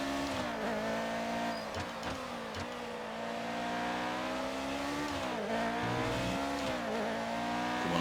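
An F1 race car engine in the F1 2019 game, a high-pitched continuous whine that climbs and dips with repeated shifts and revving, steady and fairly quiet with no voices.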